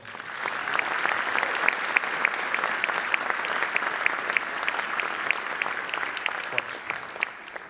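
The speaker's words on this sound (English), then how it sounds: "Let's give him a round of applause." Steady applause from a concert audience at a band performance, dense clapping holding at an even level throughout with occasional sharper individual claps standing out.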